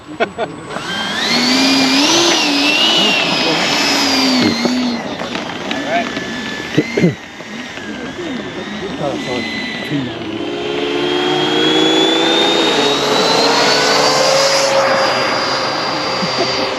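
An RC model turbine jet engine runs at a busy flight line, its rising and falling whine sweeping up and down in pitch while a propeller aircraft drones nearby and people talk over the noise.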